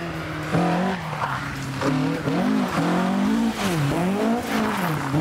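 A Ford Escort RS 1600 with a Cosworth BDA engine drives past close by, its engine note rising and falling in pitch through several gear changes, with some tire squeal. No one speaks.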